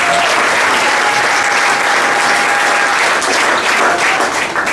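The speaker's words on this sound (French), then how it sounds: "applaudissons encore pour le Seigneur." A church congregation applauds for the Lord in a steady, loud wash of clapping that holds evenly for several seconds, with a faint sustained tone running beneath and no speech.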